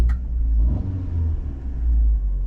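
A car engine with a Pedal Sprint throttle controller set to Race mode pulls in a steady, loud low rumble, rising slightly in revs, heard from inside or close by.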